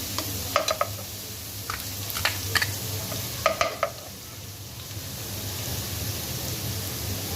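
Garlic paste sautés in hot cooking oil in a pan, a close, continuous sizzling hiss with a few bright clinks and stirring scrapes in the first half, then an even fizz.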